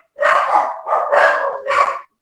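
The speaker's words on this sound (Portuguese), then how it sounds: "os cachorros estão participando também" Dogs bark indoors in several loud, close barks in quick succession, with no talking over them.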